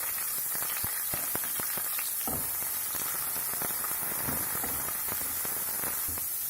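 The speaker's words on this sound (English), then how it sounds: "Heat some oil in a pan and add the onion and pepper." Onion and pepper sizzling in hot oil in a pan, a dense steady crackle with scattered pops, close and continuous with no talking.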